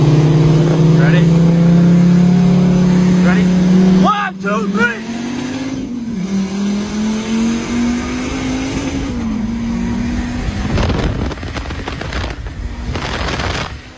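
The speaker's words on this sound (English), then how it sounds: "you'll see two fully built Hondas easily beating a Viper ACR" Two heavily modified Honda Civics race a Dodge Viper ACR, with loud engines droning and revving steadily and gear shifts and a roaring acceleration near the end.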